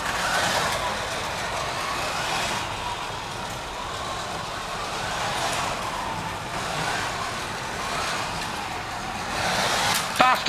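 Carrera Porsche 935 slot cars race around a track with a continuous whirring electric motor drone that swells and fades as the cars pass, close by, with voices speaking faintly underneath.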